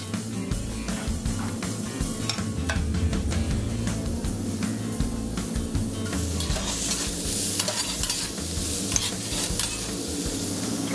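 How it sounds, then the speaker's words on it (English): Vegetables sauté in hot oil in a pan, giving a dense, steady sizzle with constant stirring and scraping throughout, close and fairly loud, with no talking. "Sauteed vegetables."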